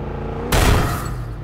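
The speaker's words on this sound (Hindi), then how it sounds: "अरे भाई ये क्या हुआ, धमाका?" A sudden loud explosion in the Far Cry 5 video game, an abrupt blast that booms out and then decays into rumbling gunfire-like noise.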